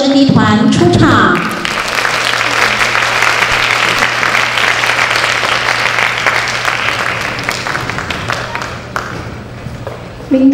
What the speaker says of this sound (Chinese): 掌声欢迎明德直笛团出场